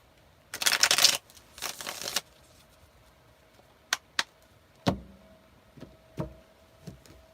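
Tarot cards riffle in a couple of quick bursts, followed by a few sharp taps and snaps as the deck is squared, in a quiet room.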